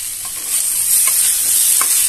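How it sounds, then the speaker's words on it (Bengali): A pan of cauliflower, potato and fish curry sizzles steadily while it is stirred, with a few soft scraping strokes breaking through the constant hiss, close and fairly loud with no voices. "মাঝের মধ্যে খুলে এইভাবে নাড়বো, যাতে এটা তলায় বসে না যায়"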